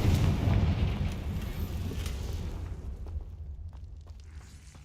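A Confringo blasting spell explodes in Hogwarts Legacy, a heavy low boom that rumbles and fades over several seconds, with scattered debris crackles trailing off.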